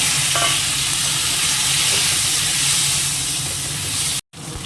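Spice paste fries loudly in a pan with sweet tomato and green chili while cabbage and hilsa fish head are being cooked, a strong continuous hissing sizzle with faint stirring. A brief dropout comes just before the end.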